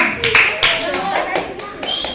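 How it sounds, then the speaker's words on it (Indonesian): An audience applauds quiz participants at a religious quiz event, scattered clapping with sharp individual claps over a few seconds while a voice speaks over it. "Berikan tepuk tangan semua peserta."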